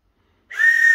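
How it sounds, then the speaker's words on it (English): A whistle is blown beside a Hornby model railway layout, giving one loud, steady, high tone that starts halfway through and holds to the end, with no talking. "blow your whistle then"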